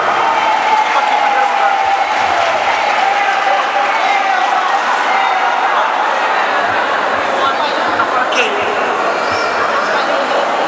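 Applause and cheering from an audience at a senior beauty pageant in 2016 while the judging panel is introduced, a steady wash of crowd noise with voices mixed in throughout.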